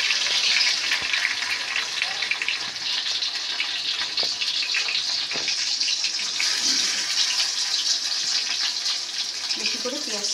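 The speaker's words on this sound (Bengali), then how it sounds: "এবার কড়াইতে তেল দিয়ে দিয়েছি বেশি করে। এবার আমি পেঁয়াজটাও বেশি দেবো, পেঁয়াজটা দিয়ে দিলাম।" Sliced onions go into plenty of hot oil in a wok, giving a loud, continuous hissing sizzle that fills the whole stretch, with a few faint clicks of the utensil near the end.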